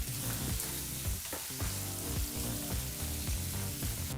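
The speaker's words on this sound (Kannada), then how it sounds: "ಸರಿಸುಮಾರು 3 ನಿಮಿಷಗಳ ಕಾಲ ಲೋ ಟು ಮೀಡಿಯಂ ಫ್ಲೇಮ್ನಲ್ಲೇ ಈರುಳ್ಳಿನ ಫ್ರೈ ಮಾಡ್ಕೋಬೇಕು." Chopped onion fries over a low to medium flame, giving a steady close sizzle with bubbling crackle and occasional stirring, alone and without speech.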